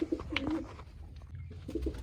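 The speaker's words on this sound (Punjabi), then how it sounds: "ਕਬੂਤਰ ਲੱਗ ਗਿਆ ਗੁੱਟਕਣ" A pigeon coos in soft, low bursts, close by, with a few brief chirps and light background noise between the calls.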